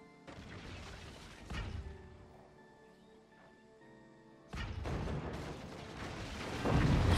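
Heavy booming mortar blasts in the game FORTS: several loud explosive impacts with long rumbling tails, a quieter stretch between them, then more blasts building at the end.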